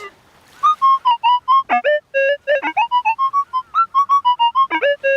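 A rapid run of electronic beeping tones from a metal detector with an NEL Sharpshooter coil passing quickly over separate targets, each short and clean at varying pitches, chirping in quick succession with no voices.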